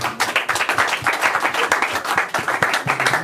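A church congregation claps steadily together in acclaim during a service, a dense, continuous wash of hand claps filling the room throughout.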